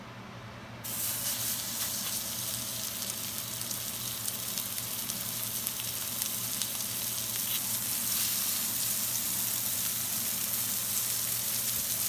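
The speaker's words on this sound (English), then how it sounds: "then we're gonna start to cook our hamburgers" Homemade hamburger patties fry in a pan with a steady, loud sizzle that starts abruptly just under a second in and continues evenly throughout, with no talking.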